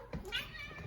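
A pet cat at home gives one short, close meow around dinner time, with some faint voice-like sound mixed in.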